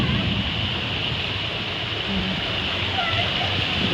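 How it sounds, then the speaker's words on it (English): Steady, broadband rushing of water pouring nearby, a constant loud roar with no pauses, faint voices mixed into the noise. "A waterfall."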